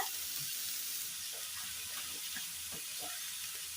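Okra with sliced onions and chillies fry in a pan, giving a steady soft sizzle that hisses throughout, with a few faint scrapes and clicks.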